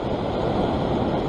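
Ocean surf surges steadily against a rocky shoreline at a Sydney fishing spot, a dense, continuous wash of water with no voices.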